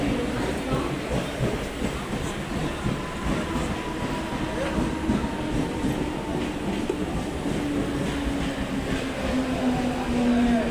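Udyan Express passenger train pulling out of Central station, heard from inside the coach as a loud steady rumble of wheels on rails with faint rhythmic clatter and a thin squeal running throughout.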